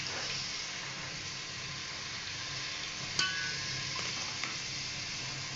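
Onions fry in hot oil for chicken sukka, giving an even, continuous sizzling hiss with a single sharp clink partway through and a faint knock after it.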